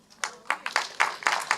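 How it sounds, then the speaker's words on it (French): A church congregation at a Christmas service claps for the welcome team, a short sparse burst of distinct, fairly close hand claps in an irregular rhythm. "On peut les applaudir"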